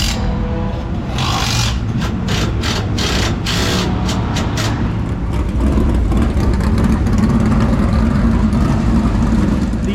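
MD3 race cars idling and revving as they roll into the starting box before an 8-lap heat race at Lake Cumberland Speedway, a steady close engine drone with scraping bursts early on.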